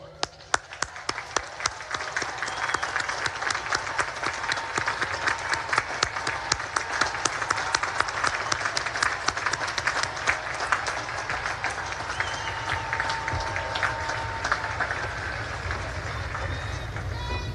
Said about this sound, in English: please stand up, face your families, and give them a round of applause